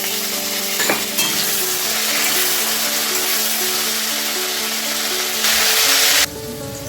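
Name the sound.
frying potato pieces with cumin tempering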